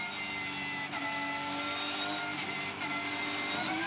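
Touring race cars at Townsville roar past in a continuous engine drone with shifting pitch, a steady wash of motor noise from the circuit with brief surges.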